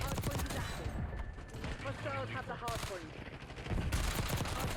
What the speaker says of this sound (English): the bullets are shredding through multiple people